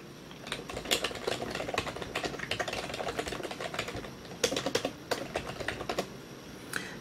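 Typing on a keyboard plugged into a Toshiba Thrive Android tablet: steady, close clicking keystrokes with a few louder bursts, no talking.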